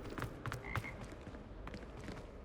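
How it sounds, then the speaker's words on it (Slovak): A frog croaks in the Hogwarts Legacy video game, a few faint, short calls against a steady ambient background. "Počujem žabu."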